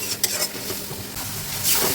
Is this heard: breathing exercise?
no